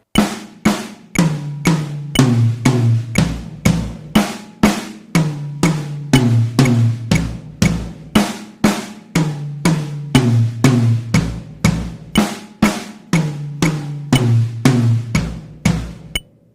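Rapid, evenly spaced drum hits, two strikes per drum, move down across the toms in repeated eighth-note runs, played loud and alone with no talking.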